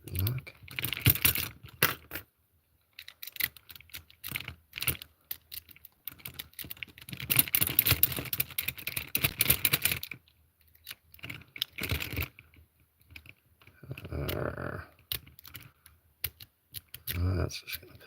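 Worn lock being picked by hand, small metallic clicks, scrapes and jangling arriving in irregular bursts, close and fairly quiet, with brief silent gaps.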